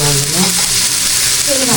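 Chewa fish heads fry in oil with a loud, close, unbroken sizzle, a dense hiss that fills the whole moment with faint low tones underneath.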